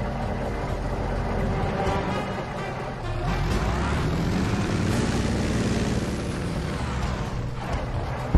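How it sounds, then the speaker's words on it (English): Hostile Air Force helicopter arriving in the video game Just Cause 2, a steady loud rotor and engine drone that swells slightly toward the middle and holds throughout, with no talk. "Hostile Air Force chopper arriving shortly."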